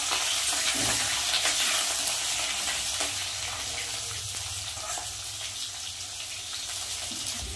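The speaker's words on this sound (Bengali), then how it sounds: "এদিকে কোয়াশ ভাজা হচ্ছে" Squash pieces sizzle steadily in hot oil close by, a continuous bright crackle with occasional stirring and scraping sounds.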